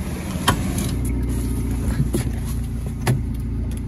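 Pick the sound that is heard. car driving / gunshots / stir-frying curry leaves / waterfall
car driving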